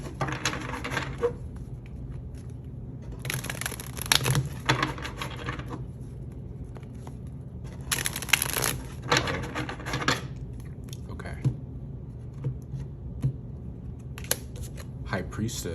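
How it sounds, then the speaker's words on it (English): Rider-Waite tarot cards are shuffled by hand in several bursts of crisp riffling and rubbing, with pauses between them and a person talking over parts of it. "Just gonna get a good shuffle here first."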